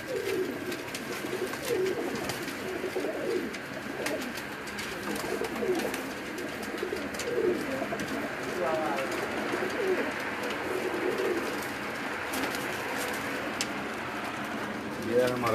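High-flyer breeder pigeons coo softly and steadily in a loft, a low continuous murmur of many birds at moderate distance with faint scattered bird calls on top.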